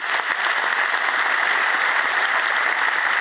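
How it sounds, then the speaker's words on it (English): An audience at an Irish citizenship ceremony in Dublin gives steady, even applause. The clapping is continuous and moderately loud for the whole short stretch, with no voices over it. "could we give them a round of applause."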